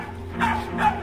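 A husky gives two short, close barks in a house, one after another with a brief gap between them.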